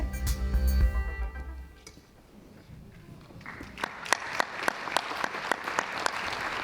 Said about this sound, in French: on peut les applaudir encore plus fort